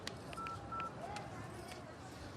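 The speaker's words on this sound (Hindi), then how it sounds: "अच्छा एक बार फोन करके देखो।" Telephone keypad tones from a Hindi-language South Indian movie scene, a few short, faint electronic beeps under a steady background hum as a number is dialed.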